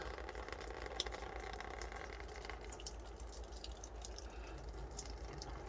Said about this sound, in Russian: Вот такая капель с крыши.